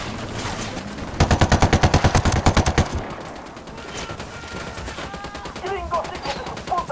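Rapid automatic gunfire in the Ghost Recon Wildlands video game: a loud, sustained burst of machine-gun shots, then scattered shots and in-game radio chatter and effects with a voice talking.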